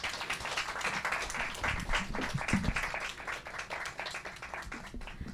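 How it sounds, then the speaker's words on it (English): Audience applause at an evening book talk, a moderately loud, even patter of many hands clapping throughout, with no voices over it. "Let's give them a round of applause."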